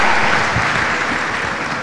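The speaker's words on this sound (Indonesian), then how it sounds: "Kita beri tepuk tangan" At a regional community convention with musicians and singers present, an audience gives a loud, dense round of applause, a close and continuous clatter of many hands.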